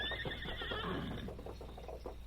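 Silver, the Lone Ranger's horse, lets out a loud, close whinny that rises and wavers for about a second, trailing off into softer snorts and hoof shuffles on a trail.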